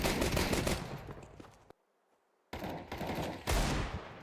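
Gunfire crackles in an esports match of an ESL Challenger League video game, with dense bursts of rapid shots, a short silent gap, then more volleys and a heavy final blast.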